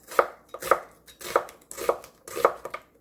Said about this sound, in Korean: 양파 하나 썰어줍니다